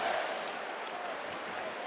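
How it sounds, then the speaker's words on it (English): A nervous basketball crowd murmurs in a Boston arena during a Heat versus Celtics playoff game, a steady, wide wash of indistinct voices and low noise with no distinct cheers. "A nervous crowd right now here in Boston"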